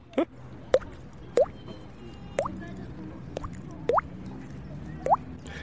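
A voice imitates water drops on the Loire with a string of about eight wet, rising plonks, evenly spaced and close, over faint background noise.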